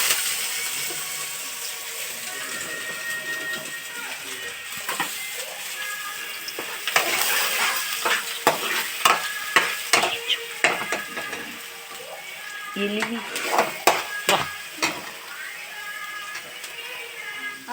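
Onion pieces fry in melted ghee and are stirred with repeated sharp scraping clacks against the pan over a constant sizzle, close and fairly loud.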